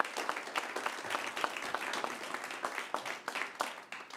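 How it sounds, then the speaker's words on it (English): Sustained audience applause fills a late-night stage show as a sponsor is welcomed up, dense clapping from a crowd holding steady throughout with no talk over it. "Give him a round of applause."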